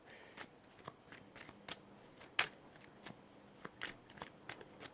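A deck of playing cards being shuffled and handled up close, with soft riffling and sharp crisp snaps spaced irregularly, quiet and without any talk.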